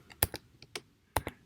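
Someone types code on a computer keyboard: a handful of crisp, uneven key clicks spread over about a second and a half, quiet and close.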